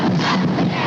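Loud, continuous cheering and shouting from about 1,500 students packed into a high school auditorium for a pregame pep rally before a playoff football game, a dense unbroken roar of crowd voices throughout.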